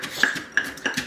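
Three heads of small organic cabbage being pounded down into a jar for sauerkraut, three distinct knocking thumps with a bright clink spaced evenly about a third of a second apart, close and fairly quiet.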